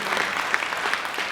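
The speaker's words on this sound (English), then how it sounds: "I think that's worthy of some applause." Steady applause from an audience at a school orchestra and wind ensemble concert, a brief continuous wash of many hands clapping.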